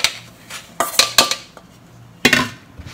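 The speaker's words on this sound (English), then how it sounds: "Then sift the flour and matcha powder again." A sieve clatters against a bowl while flour and matcha powder are sifted, giving sharp metallic clinks and taps in uneven bursts with short quiet gaps between them.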